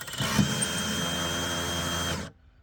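A power drill fitted with a homemade crank bit turns the lift mechanism of a pop-up camper, giving a steady loud whine for about two seconds before it stops abruptly.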